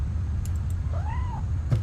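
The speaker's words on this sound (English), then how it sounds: "You hear the cat sound, Devlin?" A cat in the video game What Remains of Edith Finch gives a single soft, rising and falling meow over a low, steady background hum, with no talking.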